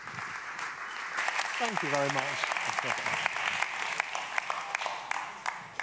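An audience welcomes a speaker onto a stage with a swell of sustained applause, while someone briefly speaks into a microphone partway through and the clapping carries on around him.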